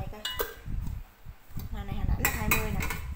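A Japanese pot is set down on an induction cooker, with clinks and knocks of metal cookware clattering near and loud while someone talks throughout.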